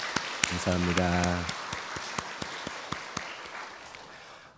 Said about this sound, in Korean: 우리 서로를 위해서도 박수하겠습니다.